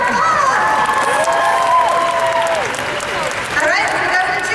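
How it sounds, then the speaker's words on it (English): A convention crowd at an anime fan panel claps and cheers for a costumed contestant, with loud sustained applause, whoops and high excited voices, and a few melodic tones sliding over the noise. "give her a round of applause"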